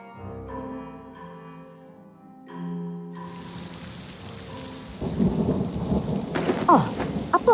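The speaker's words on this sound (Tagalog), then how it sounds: "napakalakas ng ulan" Heavy rain pours in a thunderstorm, with a deep rumble of thunder and loud, dense rain on surfaces building and intensifying after a brief opening of sustained musical tones.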